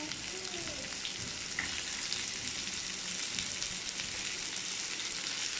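Onions frying in a pan for a clam roast: a steady, close sizzling hiss holds at an even level throughout, with faint crackles and no clear talk.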